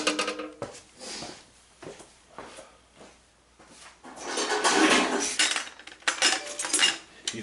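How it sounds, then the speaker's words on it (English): The metal lid of an ammo can in an M2HB cradle mount is worked open, giving close metallic clanks and rattles that build into a louder scraping clatter before a few sharp knocks. "This lid then pops off,"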